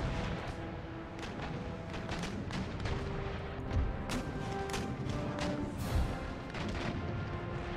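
Warship cannon fire in the game Empire: Total War, with repeated booming shots and dense gunfire rumbling continuously over a busy battle background.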